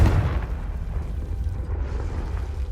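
A Confringo fire spell explosion in the Hogwarts Legacy video game, a loud deep boom that rolls into a long rumbling decay over several seconds.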